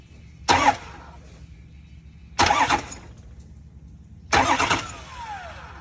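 The starter on a 2004 Ford F-350 with a 6.0L diesel and failing injectors cranks in three short, evenly spaced bumps, each a brief whirring burst with a quiet pause between.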